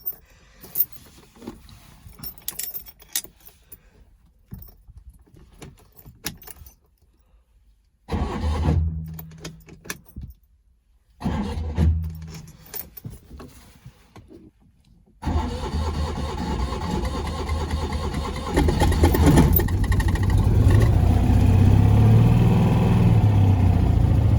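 A Citroen 2CV engine cranks in several short whirring attempts separated by pauses, then catches and settles into a steady, loud, rattly idle that grows stronger toward the end.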